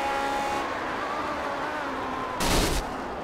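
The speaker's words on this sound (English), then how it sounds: "Oh, blew an engine on downshifts." A race car engine in the Grand Prix Legends video game revs on a whining downshift, then blows with a short, loud burst of noise before the drone continues.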